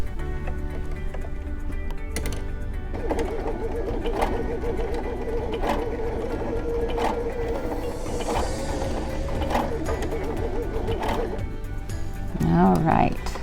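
A Baby Lock Sashiko sewing machine stitches out a pattern at its longest stitch length and spacing of 5, a steady mechanical rhythm running under a voice talking.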